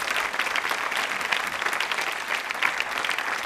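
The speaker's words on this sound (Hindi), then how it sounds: "तालियां बजाइए के आसिफ साहब के लिए," An audience at a Mughal-e-Azam quiz show in a girls' college hall bursts into steady, dense applause in honour of K. Asif, a continuous wash of many hands clapping for several seconds, with no voices over it.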